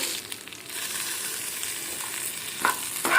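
Ginger sizzles and crackles steadily in a hot pan on a gas stove, with a couple of sharper stirring scrapes near the end and no talking.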